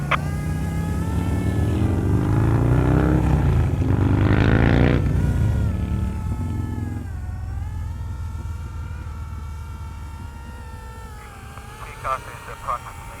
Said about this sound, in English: How long till prop start up?